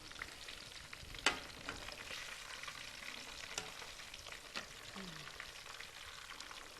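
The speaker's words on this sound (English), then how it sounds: "it takes about 15 minutes to fry them up" Meat fries in a pan with a soft, steady sizzle and a few light clinks and stirring knocks, fairly quiet throughout.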